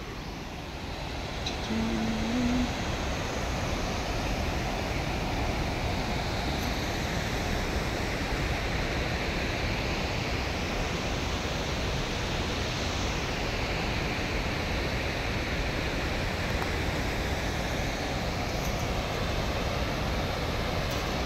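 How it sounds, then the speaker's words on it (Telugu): Kuntala forest waterfall in Adilabad, Telangana, pouring in a constant broadband roar of rushing water, loud and unbroken for the whole stretch, with a faint brief voice-like tone early on. "చూడండి కుంటాల ఫారెస్ట్ వాటర్ ఫాల్స్"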